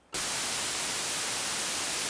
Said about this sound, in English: There's white noise, that's white noise